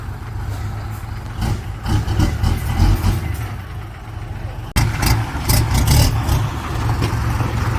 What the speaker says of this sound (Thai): เสียงท่อไอเสียงนี้แรปดีมากเลยนะ สามหกรีแมปครับ แรปโคตรดีอะ